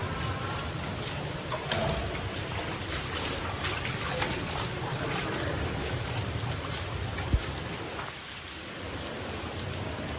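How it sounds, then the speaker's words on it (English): A waterfall and flowing water along a forest walking trail in Ubud, Bali, roar as a steady, dense rush that holds evenly throughout without pause. "So this is the waterfalls."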